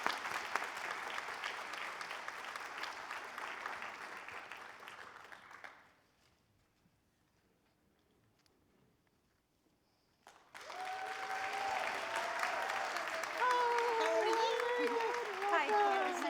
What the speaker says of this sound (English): let's welcome her with a big round of applause